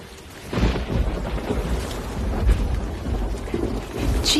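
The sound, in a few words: rain and thunder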